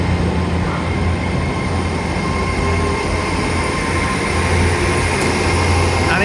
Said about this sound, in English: There's my train off on its way to Penzance.